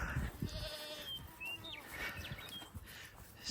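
A goat on a farm bleats in short wavering calls, fairly close, with faint bird chirps and low thumps around it and no talking.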